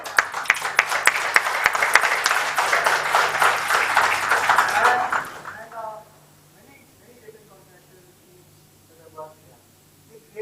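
Audience applause at a LEED Platinum building felicitation ceremony, a dense, loud burst of many hands clapping for about five seconds that then cuts off abruptly to near silence with faint sounds.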